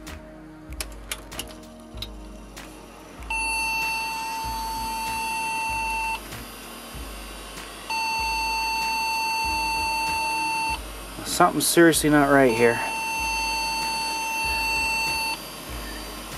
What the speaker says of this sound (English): Because it is beeping, so that means it probably is not posting.